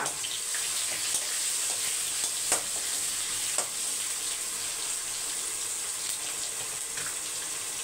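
Spices tempering for rasam sizzling in hot oil in a pan, a steady bright hiss with scattered crackles and pops throughout.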